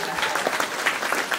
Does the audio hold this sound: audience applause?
yes